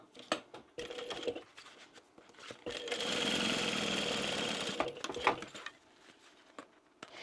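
A sewing machine bastes across the top of a fabric bag in a short steady run of rapid stitching, preceded and followed by quiet handling clicks and rustles.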